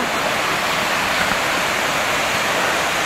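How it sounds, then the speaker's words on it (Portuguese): Rushing water at the Cachoeira da Escuridão waterfall in Vale das Princesas, a loud, constant broadband roar of heavy flow with no breaks and no voices. "o barulho da água. O volume d'água parece estar bem forte."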